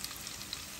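Chopped small onions frying in a pan with mustard and fenugreek give a brief, steady, close sizzle with a few faint crackles.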